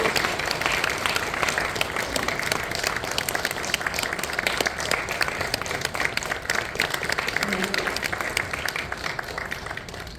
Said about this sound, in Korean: 우리 한번 박수로 격려합니다.